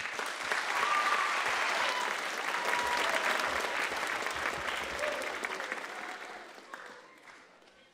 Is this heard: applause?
yes